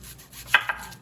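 A kitchen knife slices through an onion on a cutting board with two quick, soft crunching cuts, close and quiet.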